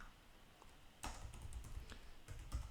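Someone types on a computer keyboard, entering a command: a quiet, quick run of key clicks and taps starting about a second in, close by, with no talking.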